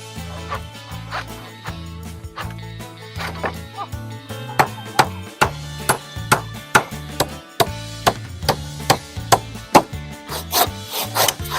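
A hand saw cuts through a wooden floor board during floor construction, its strokes speeding into a regular rasping rhythm, close and fairly loud, with no talking.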